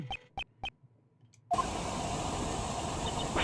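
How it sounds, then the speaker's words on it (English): Hot air balloon in the Ace Attorney Investigations 2 game, a steady loud roaring hiss like a burner starting suddenly after three short beeps and sustaining to the end. "This is the sound of the hot air balloon."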